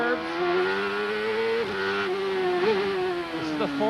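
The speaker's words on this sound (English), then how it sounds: "The Ford power versus the Mercedes power in Gugelman's car right ahead of him" Champ Car race cars at the 1997 Gold Coast street race, Ford and Mercedes engines screaming at high pitch, loud and steady, with gear shifts and revs dipping and climbing as the cars run close together.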